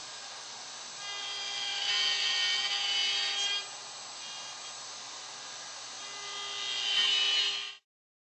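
A router cuts through dovetails in wood on a Leigh dovetail jig, a high steady whine that swells louder as the bit bites twice, then stops abruptly.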